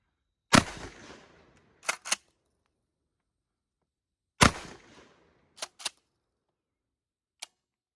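Keltec KSG 12 gauge pump shotgun fired outdoors at targets, two loud sharp blasts about four seconds apart, each followed by quick clacking pump actions, with no talk.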